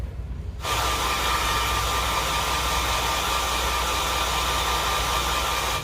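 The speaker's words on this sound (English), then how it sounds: "use a hairdryer on it on low for a little bit" A steady, constant blowing whoosh of a hair dryer on a low setting switches on after a brief quiet moment and runs evenly throughout.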